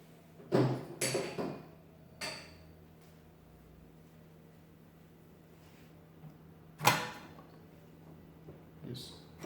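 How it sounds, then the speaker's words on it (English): Old Standardyne radio with its vacuum tubes being pulled one by one from worn sockets: a few sharp clicks and scrapes close by, spread out with quiet pauses between them. "first thing I'll do is pull out all the tubes."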